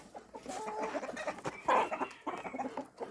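A gander goose calls while being fed greens in a farmyard, giving several short honking, clucking calls at close range amid other poultry noise, with no talk over it.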